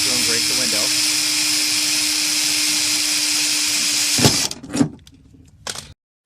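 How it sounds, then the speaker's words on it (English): A power drill runs steadily close up for about four seconds, boring a mounting hole through the inner panel of an Impala car door, then stops, leaving a few brief clunks and handling knocks. "I've got my mounting hole drilled."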